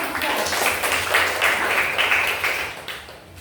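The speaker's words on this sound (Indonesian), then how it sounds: "Oke bagus, tepuk tangan dulu" A school class claps in a loud, dense round of applause that carries on steadily, then fades near the end.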